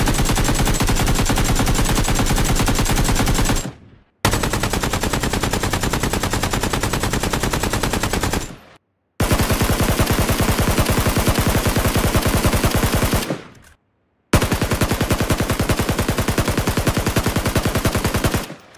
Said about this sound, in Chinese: 首先是枪械的开火声，整体质感有个明显的提升。